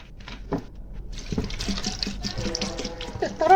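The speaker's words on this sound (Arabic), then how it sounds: "طفيت من عليها الميه وهضيف لها ميه ساقعه كمان." Cold water poured from a tap over okra in a pot, a splashing, filling stream that grows louder toward the end, heard close with no talking.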